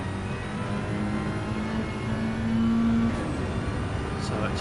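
A GT2 race car at full throttle at Road Atlanta in a racing video game, its engine a steady droning whine that rises slightly in pitch as it pulls, heard under continuous commentary talk.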